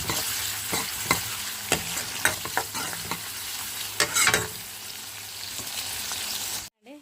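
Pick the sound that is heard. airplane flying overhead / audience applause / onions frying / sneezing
onions frying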